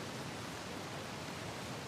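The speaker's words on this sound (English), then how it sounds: "Another waterfall." Steady broadband rush of a waterfall in the video game Uncharted: The Lost Legacy, a continuous even roar of falling water with no other sounds over it.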